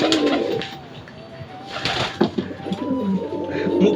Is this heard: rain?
no